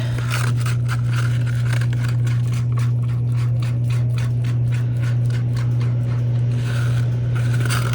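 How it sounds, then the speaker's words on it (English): Excess silver inlay material is scraped out of a custom pen organizer in a workshop, with a rapid series of rasping scrapes over a loud, constant machine hum. "Let me scrape that out."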